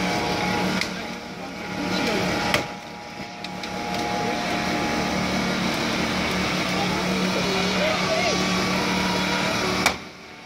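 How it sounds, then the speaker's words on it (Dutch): Fire brigade hydraulic rescue shears cutting through a car at a fire station open day in Amsterdam, a sustained mechanical whine and grinding with sharp metallic cracks near the start and end, under a busy outdoor background. "We zijn nu overgegaan op de schaar voor het knipwerk."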